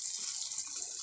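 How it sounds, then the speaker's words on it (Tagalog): Water pours steadily into a cooking pot, a continuous bright rushing splash that stays even and fairly close for about a second, with no talking. "lagyan na po ng tubig"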